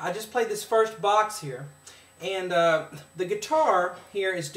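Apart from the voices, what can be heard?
No everyday noise stands out behind the speech.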